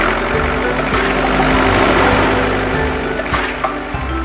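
Tractor engine chugs at a steady idle, a dense low rumble with faint rhythmic knocking, moderately loud and close, heard alone without talk.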